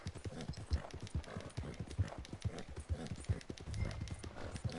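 Horse hooves clip-clop in a steady rhythm while a horse is ridden in Red Dead Redemption 2. The hoofbeats are moderately close over a faint background.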